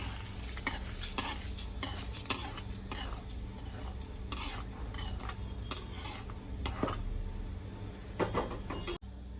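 Tempering seasoning sizzles in a pan for vermicelli idli, with frequent clinks and scrapes of a spoon stirring against metal over a soft background sizzle.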